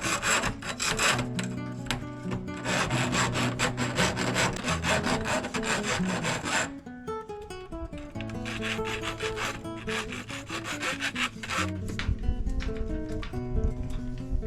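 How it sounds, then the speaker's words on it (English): Aluminum bimini tubing is deburred to take off the inner ridge left by a tubing cutter, giving repeated close rasping strokes in a steady scraping rhythm with a short break midway. "The tubing cutter leaves a ridge on the inside diameter, and that needs to come off for the tubes to be able to fit over the fittings."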